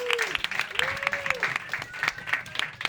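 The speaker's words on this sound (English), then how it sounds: "Start clapping for your first comic." A comedy club audience at a roast battle show claps in dense, lively applause for a comic, with a voice heard speaking over it.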